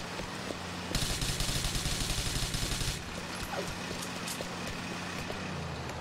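Gunfire in Grand Theft Auto IV: a dense, rapid burst of shots runs for about two seconds over a steady engine rumble, then gives way to a lower stretch of traffic and background noise with a few scattered sharper sounds.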